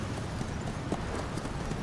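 A horse gallops across sandy ground in Metal Gear Solid V: The Phantom Pain during a sandstorm, its hooves thudding in a quick, continuous rhythm under wind noise.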